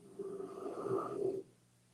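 A dog snores in a single long, rumbling breath that swells and then stops abruptly, close and fairly loud against quiet surroundings.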